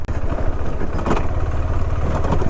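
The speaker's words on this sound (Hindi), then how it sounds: "कुछ तो आवाज़ कर रहा बहुत ज़ोरदार मेरी बाइक में।" Loud motorcycle engine running on a mountain road near Sandakphu, Darjeeling, with a steady low rumble and clattering, rattly mechanical noise throughout, continuous and close.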